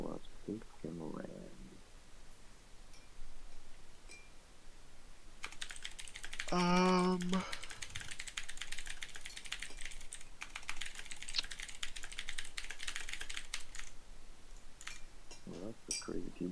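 Rapid clatter of a computer keyboard being typed on, continuing steadily for several seconds at close range, with a brief burst of a tonal electronic sound and some muffled voices near the start and end.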